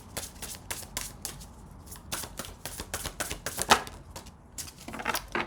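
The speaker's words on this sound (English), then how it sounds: "I'm going to shuffle and get one more" A deck of tarot cards being shuffled by hand, giving a run of close, crisp riffling bursts that repeat irregularly for several seconds with no talking.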